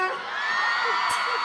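A crowd at a live dancehall show whoops and yells in a brief, loud, sustained burst, with a single sharp shout rising near the end.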